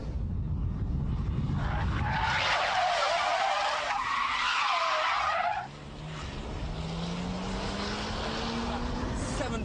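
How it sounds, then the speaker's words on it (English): A car skids through a 360-degree drift spin, its tires squealing loudly and steadily over the engine for several seconds, then the screech drops away and the engine settles to a lower, rising drone. "it's time to take on the 360 spin challenge."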